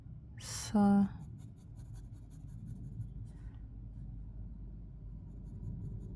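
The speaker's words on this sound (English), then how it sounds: "And then we'll draw a window." A pencil sketching a house window on paper makes soft, faint scratching strokes in a quiet room, with a brief squeaky tone near the start.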